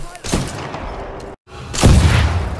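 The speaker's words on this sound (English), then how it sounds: "I'm gonna shoot you in the head." Gunfire in the sci-fi shooter Titanfall 2: two close, heavy bursts of shots with a brief silent gap between them, loud and dense against the game's background noise.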